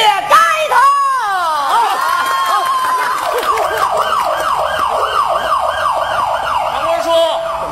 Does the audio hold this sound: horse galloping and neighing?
no